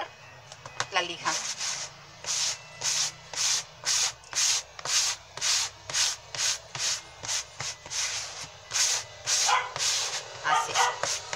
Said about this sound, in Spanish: le volvemos a pasar la lija